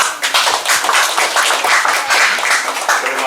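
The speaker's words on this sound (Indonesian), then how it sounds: "kita tepuk tangan untuk beliau." Audience applause at a church community gathering welcoming a new leader, a dense burst of hand clapping, loud and close, sustained across the whole stretch.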